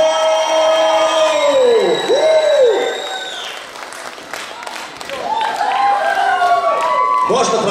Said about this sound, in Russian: Аплодисменты хабаровчанам